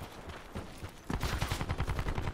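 Gunfire in Call of Duty Black Ops 4, a distant scattered crackle that turns into a loud rapid automatic burst of close shots for the last second or so.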